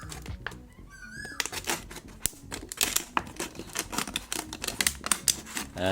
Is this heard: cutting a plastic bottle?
yes